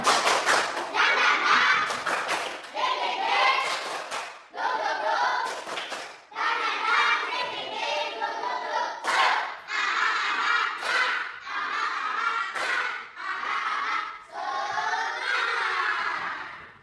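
A standing class performs a rhythmic spirit clap, with bursts of synchronized clapping and thumping in repeated patterns separated by short pauses, loud and close, with occasional shouted group voices mixed in.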